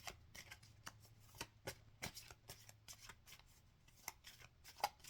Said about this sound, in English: I like the sound of the cards